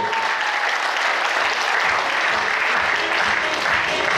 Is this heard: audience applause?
yes